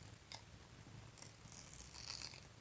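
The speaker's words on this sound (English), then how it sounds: "he is purring on my desk." A soft, low rumbling purr continues steadily, close and quiet, with a few faint crackles and rustles on top.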